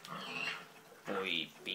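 A pig oinks in the Minecraft video game, with two short grunting calls at moderate volume and a third beginning at the end, while a person talks at the same time.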